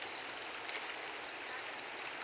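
A river flows through Corcovado rainforest with a soft, steady rush of water, an even broadband hiss with faint gurgles, distant and low, no voices.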